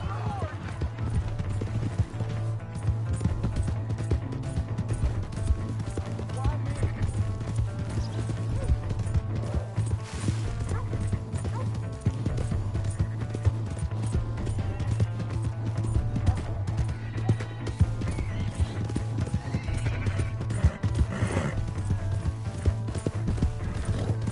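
Steady clip-clop of a horse's galloping hooves in a video game over a constant low hum, with occasional shouted voices, continuous and fairly close.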